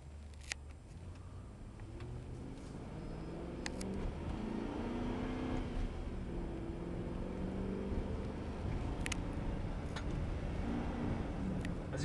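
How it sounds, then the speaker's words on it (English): A 2003 Chevrolet Avalanche Z71 crew cab 4x4 with a 5.3 V8 cruises with a steady, muffled road and engine rumble as the automatic transmission shifts smoothly, heard from inside the cab with a few faint clicks. "As you can see, the transmission shifts correctly."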